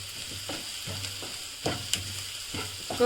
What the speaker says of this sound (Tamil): இது நல்லா ஃப்ளேமில் வச்சு சீக்கிரம் வந்து வதக்கிடலாம். ஹை ஃப்ளேமில் வச்சு நல்லா வதங்கணும்.